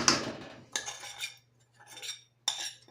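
A spoon stirs warm syrup into a mixture in a dish, producing short bursts of clinking and scraping against the dish, separated by brief pauses.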